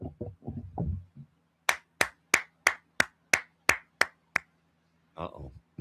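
A person claps their hands about eleven times in a slow, even rhythm, each clap sharp and close, with a voice speaking briefly before and after the claps.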